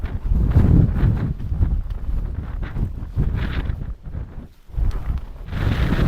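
Severe wind batters a microphone at an exposed wild camping pitch, loud buffeting gusts rising and dropping in uneven surges with short lulls between them.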